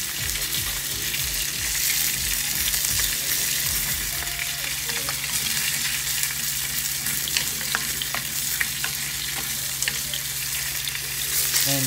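Fish fries in hot oil in a pan with a loud, continuous close sizzle. Occasional scraping and stirring noises sound over the steady crackle.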